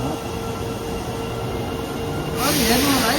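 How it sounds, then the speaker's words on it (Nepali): A train pulls into a station in Japan, a steady rumble and hiss of rail noise that swells near the end as the cars roll in close, with a rising whine over the top. "अब ट्रेन आयो"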